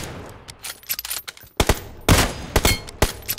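Gunfire in PUBG Mobile, where a shot lands on an enemy's head: a burst of sharp, loud shots in quick succession, close by, with some spacing between the later cracks and no talking.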